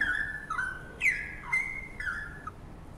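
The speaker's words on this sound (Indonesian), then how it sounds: "Jadi kita lihat di sini burung kenari yang tadinya senang" A canary sings alone in a short series of bright whistled notes and quick trills, moderately near and clear against a quiet background.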